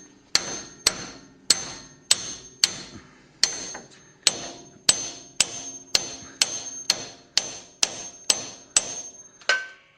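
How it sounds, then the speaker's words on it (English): A hammer strikes sharply about fifteen times in a steady, evenly spaced rhythm, pounding a strut into place on a Chevrolet Trailblazer; each blow rings briefly at close range, with no talking. "we're just going to take a hammer and pop this on"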